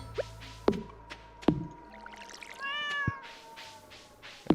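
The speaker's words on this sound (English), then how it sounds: "I'm going to continue petting my cat each day" A cat in the video game Stardew Valley lets out a clear, close meow amid sharp plinking drip-like game sounds and a steady faint tone.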